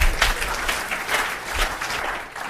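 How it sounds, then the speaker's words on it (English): Steady applause from an audience at a business briefing, dense clapping filling the whole moment at an even, fairly loud level. "Let's give Mike another round of applause."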